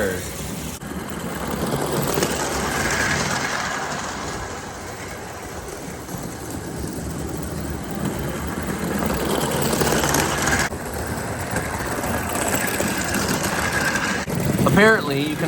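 O gauge live steam model locomotive pulling heavy Lionel rail cars, a continuous rumbling run of wheels and engine heard close up, steady and moderately loud, with faint background voices.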